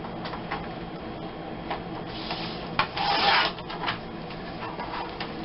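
Scrapbooking paper being trimmed for a border base, heard as soft repeated rasping and rubbing strokes with one louder, longer cut near the middle, close and without speech.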